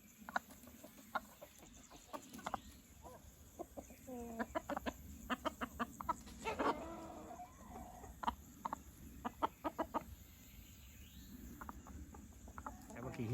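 Chickens cluck and squawk in short, scattered bursts in a village garden, with a rooster joining in now and then, all fairly quiet against a soft background.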